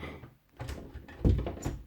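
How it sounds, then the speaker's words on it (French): A bedroom door is being closed, with soft shuffling and rubbing followed by a dull thud near the middle, close by and fairly quiet. "Je vais fermer la porte parce qu'il y a mon papa qui est monté"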